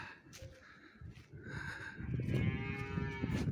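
Cattle low and moo repeatedly inside a barn on a farm, several drawn-out calls of moderate loudness, growing fuller and closer toward the end, with no talking.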